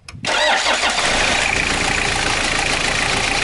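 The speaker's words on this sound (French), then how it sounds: "avec le 4000 comme avec le 3000, le moteur démarre sans aucun souci" A 3-litre four-cylinder turbo diesel cranks briefly after glow-plug preheat on a jump-starter booster, then catches and settles into a loud, steady, close idle.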